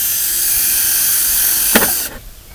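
Power drill boring drainage holes in a 5-gallon plastic bucket: a steady high-pitched whine held for about two seconds with a brief bump, then cutting off abruptly into quieter residual hum.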